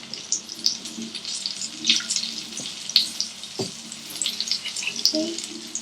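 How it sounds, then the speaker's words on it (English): Cumin seeds and curry leaves hit hot oil in a pan, giving a steady crackling sizzle with sharp pops and spits scattered throughout, close and fairly loud. "in the same pan, in the same oil, I'm going to add half a teaspoon of cumin seeds"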